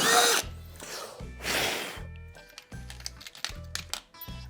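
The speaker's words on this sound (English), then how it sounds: "there is something about drilling through metal that never gets me stoked" Power drill boring holes through metal for a jon boat build: several short whining drill bursts alternating with pauses, rattling and tapping of the metal, close and moderately loud.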